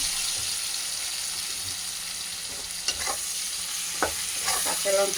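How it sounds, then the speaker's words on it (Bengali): Onion and green chili fry in a pan, a continuous close sizzle with a few light scraping and tapping sounds of stirring near the end, no voices. "এবার পেঁয়াজটা আমি একটু লাল লাল করে ভাজবো।"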